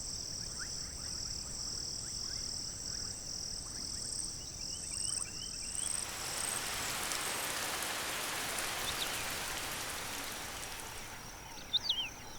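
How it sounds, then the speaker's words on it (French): Soft, steady rain in the Maasai Mara savanna at morning, a faint distant hiss that thickens halfway through, with crickets chirping and a few bird calls early on. "Une averse matinale laisse les sols détrempés."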